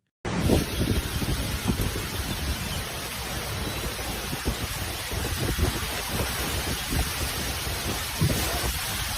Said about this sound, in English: Trees bent violently, branches snapped, and entire streets vanished under rushing torrents of rainwater